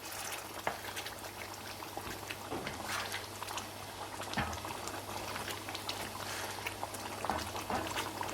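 Beef karahi reduces over high heat in a pan, giving a dense, continuous bubbling and sizzling with scattered pops and stirring scrapes, fairly close and steady throughout.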